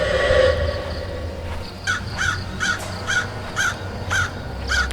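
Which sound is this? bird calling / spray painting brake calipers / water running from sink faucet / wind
bird calling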